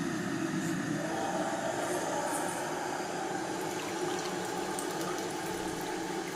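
Hot water streams steadily into a container, a continuous loud rushing pour with no break and no voices.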